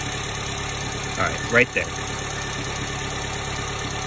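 Subaru Sambar engine idling steadily during timing and carburetor tuning, a constant low mid-pitched hum heard close, with someone speaking briefly over it.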